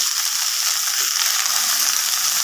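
Chopped red amaranth greens hit hot oil with fried onion and garlic, giving a loud, unbroken hiss of sizzling close by throughout.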